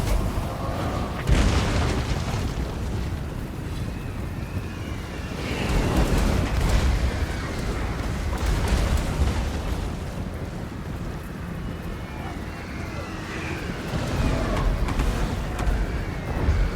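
Hellstorm rocket artillery explosions in a Warhammer battle game, a series of deep booms and rumbling blasts swelling and fading in waves over a windy, roaring battlefield backdrop.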